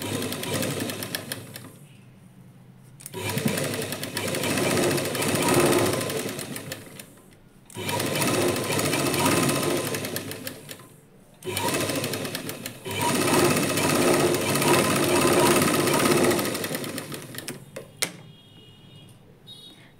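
A sewing machine stitches a half-inch seam through a lining blouse, running in four steady, buzzing bursts of several seconds each with short pauses between, close and alone.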